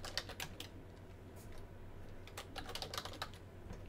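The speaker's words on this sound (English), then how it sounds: "I'm just going to type astral bodies" Quick bursts of keystrokes on a computer keyboard, close and fairly quiet, clustered taps with short pauses between, no voice over them.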